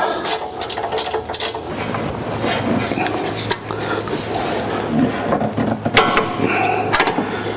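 Torque wrench tightening a sway bar end link on a Ford Crown Victoria, giving close metallic clicks and ratcheting mechanical clatter in short bursts over steady workshop background noise.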